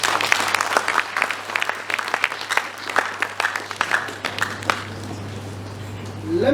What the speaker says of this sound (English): Once again, let's give her a round of applause.